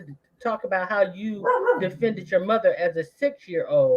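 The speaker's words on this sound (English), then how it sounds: "excuse my dog, you know how it is" A dog barks and yips in the background of a conversation, its short bursts mixed in under steady close-up talk.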